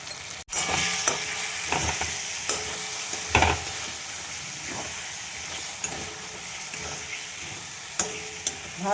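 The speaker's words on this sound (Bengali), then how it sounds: "ভালো করে কষিয়ে নেব।" Ground spices, salt and fish masala sautéed and stirred in a pan for a rohu fish dish, with a continuous hissing sizzle and frequent spatula scrapes and knocks against the pan, close up.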